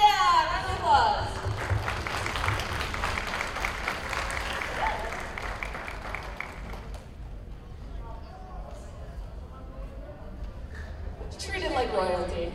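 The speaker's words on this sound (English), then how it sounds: "Come on down. Round of applause." Audience applause for a volunteer called up onstage at a comedic assertiveness seminar skit, a dense steady clapping roar that fades midway, then a voice speaks over quieter room noise.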